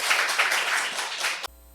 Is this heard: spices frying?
no